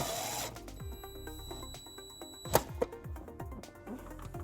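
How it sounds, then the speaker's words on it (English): Powered driver running a self-tapping screw in to ground trailer wiring behind the taillight of a 2010 Kia Soul, a steady whirring drive with short sharp clicks and bumps near the end, close and alone. "we're going to ground it behind our taillight using the provided self-tapping screw"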